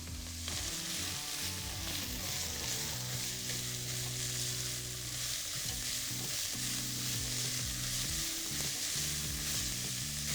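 Vegetables fry and get stirred in a pot, a continuous close sizzle with spoon scraping, heard under steady background music.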